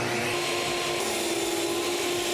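A power saw rips PVC boards for recessed exterior columns in one steady, loud, continuous cutting whine with no speech.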